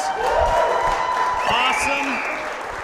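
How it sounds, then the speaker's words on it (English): Audience applause for guest speaker Travis Hardin at a talk, a steady wash of clapping under continuing voices that fades slightly toward the end. "Big round of applause for Travis"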